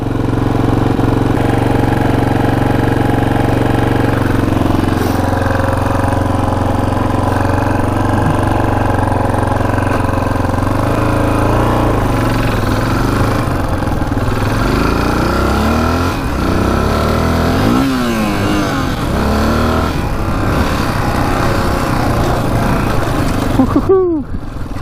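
A rare Honda 500cc motorcycle engine runs after years without starting, a steady idle broken by several rising revs and blips near the mic, loud throughout.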